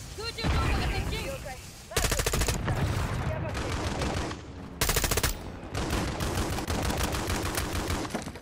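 Rapid automatic gunfire in a Call of Duty MW3 multiplayer match comes in dense, loud bursts with brief gaps, punctuated by sharper explosive volleys.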